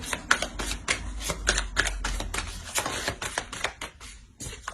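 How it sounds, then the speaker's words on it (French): Tarot cards being drawn and laid onto a spread, a quick run of crisp, close slaps, flicks and shuffling rustles with brief pauses between them, no voice present. "Je vais rajouter une carte sur le 9 d'épée."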